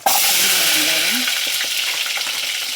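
Shallots and green chillies fry for sambar in a pan, hissing loudly and continuously close up with a few faint stirring scrapes and no talking.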